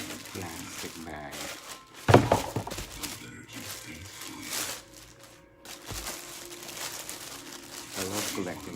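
Plastic bag wrapping on a pair of Balenciaga slide sandals crinkles and rustles close up, with a sharp crackle early on and steady rustling throughout.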